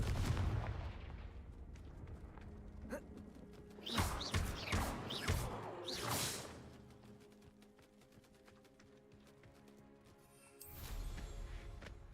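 A Confringo fire blast spell explodes in the Hogwarts Legacy video game, a burst of booming blasts and crackling impacts clustered in the middle, followed by a fading rumble and another swell of noise near the end.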